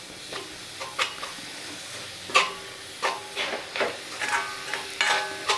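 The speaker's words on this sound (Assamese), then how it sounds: "নাৰিকল আৰু গুড়খিনি ভালদৰে ভাজি ল'ম।" Coconut and jaggery fry in a wok for bhapa pitha, with repeated scraping stirs of a spatula over a low, steady sizzle, close and fairly quiet.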